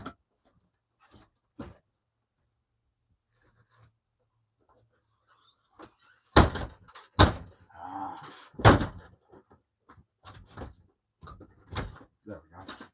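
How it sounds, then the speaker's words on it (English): A room door is closed with a few sharp knocks and thuds amid handling noises and movement, loud and close after near-silence, followed by a short stretch of speech. "I gotta go close my door real quick."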